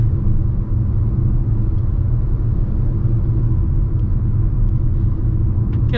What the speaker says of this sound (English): Get a little bit of wind noise, get some, definitely hear the tires.